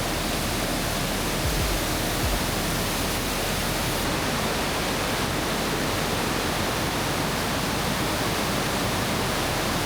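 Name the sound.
waterfall at Deception Falls, Stevens Pass Highway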